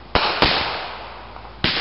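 Fireworks explode in a backyard on the Fourth of July, three sharp loud cracks with crackling decay between them, close and without talk.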